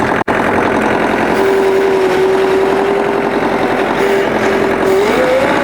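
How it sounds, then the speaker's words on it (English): Kubota LX3520 compact tractor diesel engine catching and settling into a steady, loud close-up idle, a rough continuous chug with a rising tone near the end. "So start the tractor first."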